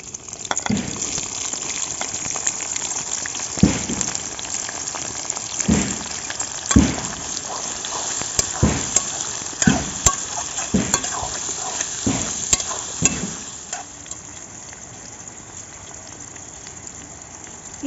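Onions frying in a pot for a Kolkata-style Dada Boudi chicken biryani, giving a steady close sizzle with repeated sharp scraping stirs that ease off near the end, no voices.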